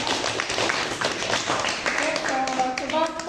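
Students in a classroom lesson clap together in a short, dense burst of applause, with scattered chatter and voices mixed in around the clapping.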